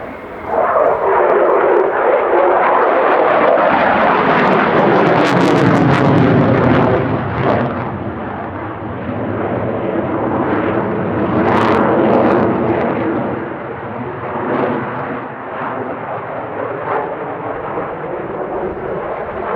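A Belgian Air Force F-16 fighter jet makes a fast, high-speed pass at the RIAT 2017 airshow, a loud, roaring engine rush that swells and sweeps past, then trails off into a fading rumble.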